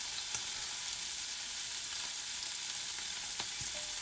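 Pancetta frying crispy in a pan for a goat cheese, broad bean and mint salad, giving a steady close sizzle with faint crackles and pops throughout, no talking.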